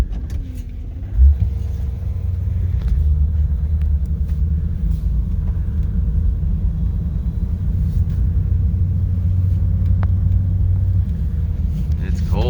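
A fully restored 1955 Chevrolet Bel Air hardtop with a Powerglide automatic and power steering drives on a cold winter day, its engine a steady low rumble heard from inside the cabin, with a brief thump near the start.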